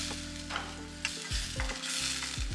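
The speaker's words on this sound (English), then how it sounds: "I'm going to reduce this down on low heat to really concentrate the flavors" Leftover chicken marinade with green seasoning reduces in a pan over low heat, giving a steady close sizzle and bubbling frying sound, broken by a few stirring scrapes, with no voices.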